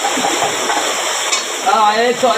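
Fish is stirred as it fries in a pan, producing a steady sizzling hiss with scraping motions, close up, while a voice speaks briefly near the end.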